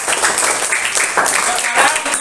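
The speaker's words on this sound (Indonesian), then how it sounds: "Sekarang tepuk tangan," Students in a classroom clapping their hands together for a classmate, a loud, dense, close burst of applause with a faint voice underneath.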